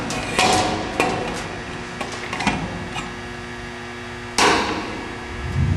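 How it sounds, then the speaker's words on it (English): A split leverlock clamp ring being taken off a tank, with sharp metallic clanks and knocks at irregular intervals and a ringing resonance in between, loud and close. "Remove your clamp ring from your tank."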